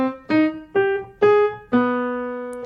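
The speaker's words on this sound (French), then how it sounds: "Ça fait comme ça, le thème de Frédéric II" Frederick II's musical theme played on piano, four clear notes in a slow sequence with the last one ringing and fading, loud and alone with no voices.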